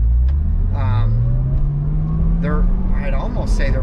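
A Chevrolet Corvette C6 ZR1 engine rumbles loudly under steady acceleration, its low tone climbing smoothly through a long rev from inside the car, while people talk over it.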